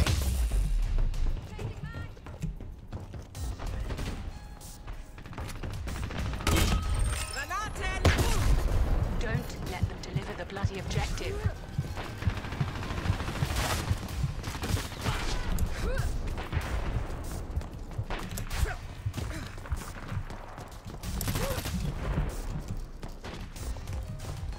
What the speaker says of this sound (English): Who's that firing at me?